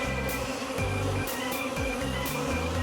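Honey bees buzz steadily around a hive frame of fresh comb on a farm, a dense continuous drone with shifting tones from bees flying close by, and no talking.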